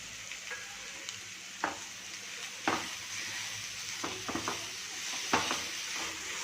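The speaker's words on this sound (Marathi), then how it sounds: "कांद्याची पात घ्यायची आहे बारीक चिरलेली स्वच्छ धुवून ती घालून घ्यायचे" Finely chopped, washed spring onion greens are added to a frying pan for Khandeshi green brinjal bharit and stirred in. A quiet, steady sizzle sits under a handful of distinct spatula scrapes and taps.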